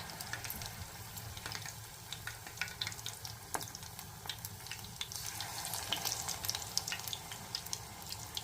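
Pakora batter of sprouted green moong daal, besan and rice flour sizzling in hot oil, a steady crackling fry with scattered pops and bubbling throughout, spooned in by the tablespoon.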